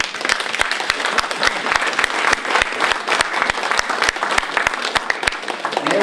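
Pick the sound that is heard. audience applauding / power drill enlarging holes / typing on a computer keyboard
audience applauding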